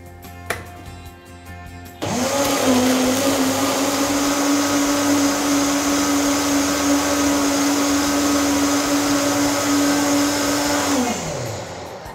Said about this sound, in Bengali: আমরা এই ওয়াটারটা দেওয়ার সাথে সাথে আমরা এটাকে ব্লেন্ড করব